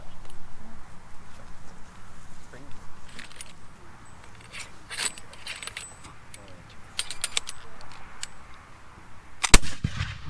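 A single black-powder musket shot cracks out loud and close near the end at a historic fort demonstration, preceded by quiet outdoor ambience with faint clinks.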